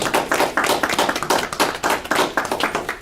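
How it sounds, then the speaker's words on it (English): A school board meeting audience claps for the Board of Education members, a steady run of close, crisp hand claps with an uneven, patterned rhythm throughout. "Please give them a round of applause."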